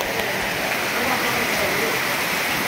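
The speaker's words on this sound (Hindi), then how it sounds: "ओ गंगा मैया, नेक्स्ट लेवल बारिश आ गई, आज तो" Heavy rain pours down in a loud, continuous roar, a dense wash of hissing water with no pauses.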